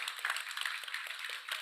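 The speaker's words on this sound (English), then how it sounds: "let's give a round of applause to them" Scattered audience clapping for the judges at a startup innovation awards final, fairly faint and thin, a brief patter of hands.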